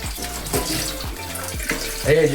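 Water poured into a container while cooking egg noodles, a steady close splashing gurgle with rhythmic sloshing pulses, continuing throughout and swelling slightly at the end.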